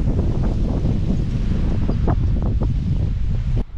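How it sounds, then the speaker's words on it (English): Strong wind buffets the microphone in a loud, continuous roar with gusty rumbling, cutting off abruptly near the end. "Now I'm battling the wind and it's no fun."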